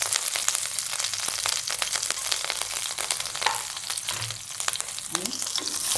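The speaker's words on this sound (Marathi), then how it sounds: "आणि कांदा परतून घेते चांगला." Onion sautéing in melted ghee with cumin, curry leaves and green chili for a vegetable pulao: a steady, dense sizzle and crackle, close and fairly loud, with faint stirring scrapes and no talking.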